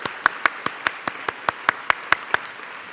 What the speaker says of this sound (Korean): 여러분 크게 환영과 감사의 박수를 드리도록 하겠습니다.